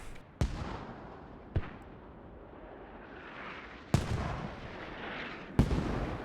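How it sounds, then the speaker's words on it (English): Mortar rounds fire in a competitive match of the video game Post Scriptum on the Kamdesh map, four heavy booming thumps at irregular intervals, each ringing out over a low rumbling battlefield background. "Oh, really good mortars."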